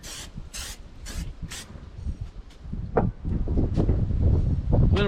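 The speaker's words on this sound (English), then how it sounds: "We're gonna hit it with a little spray." Four quick bursts of aerosol spray hiss in a row, fairly close, onto a grill grate, followed by clattering and scraping against a rumbling, windy background.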